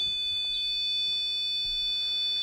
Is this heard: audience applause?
no